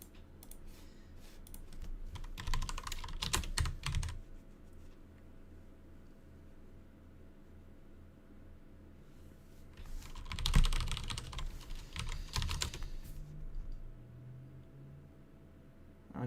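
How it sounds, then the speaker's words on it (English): Mechanical computer keyboard typing in two bursts of rapid key clicks, close and moderately loud, separated by a quieter stretch of room hum. "I just have like a normal mechanical keyboard"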